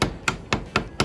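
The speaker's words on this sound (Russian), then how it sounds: "Отрезаем 3 сантиметра алюминиевого штырька и немножко расклепываем с одной" Hammer peening one end of a cut 3 cm aluminium rod into a rivet for a knife handle restoration, five sharp metallic blows at an even, steady rhythm, close and loud with no talking.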